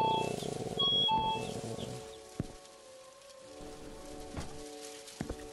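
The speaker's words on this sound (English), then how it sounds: "Inside of the convenience store while it's raining." Rain falling outside a convenience store in a video game, a soft patter with scattered drips and a few sharper taps, heard faintly from indoors with a low hum underneath.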